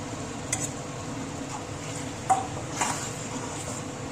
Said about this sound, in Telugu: అది పేస్ట్ చేసుకొని గ్రేవీలాగా వేస్తున్నాను